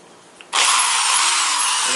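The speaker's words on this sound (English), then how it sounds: "I have a rotary drill" A rotary drill bites into plastic dashboard trim during a Ford F150 double-DIN stereo install, starting abruptly after a short quiet lead-in and then running loud and steady at close range, with no talking.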